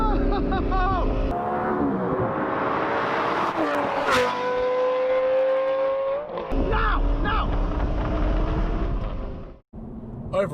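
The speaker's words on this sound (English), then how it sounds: "his 2020 Supra absolutely gaps his Lamborghini Gallardo" A 2020 Toyota Supra and a Lamborghini Gallardo race, engines wailing loud and close with rising pitch, breaking off at quick gear shifts and surging again, ending in a brief dropout.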